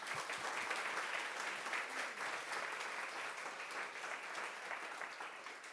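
Sustained audience applause at a women's leadership event, dense and steady clapping from a large crowd filling the whole stretch without letting up.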